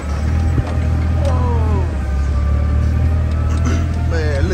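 A forklift being driven gives off a steady low engine rumble that holds throughout at close range, with faint voices and a few light clanks over the drone.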